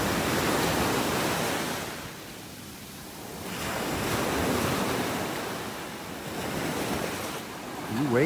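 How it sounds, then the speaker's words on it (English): Ocean waves wash onto a beach in North Naples, Florida, on an early morning, rolling surf swelling and receding in broad surges with wind buffeting the microphone. "Waves out there this morning."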